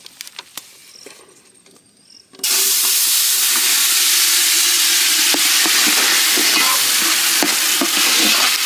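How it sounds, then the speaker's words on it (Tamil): Jamun fruit halwa, made from the ground fruit pulp, is stirred steadily in ghee in a village-style kitchen: a quiet start, then loud continuous scraping and sizzling with no talk. "கைவிடாமல் கிண்டிக்கிட்டே இருக்கணும்"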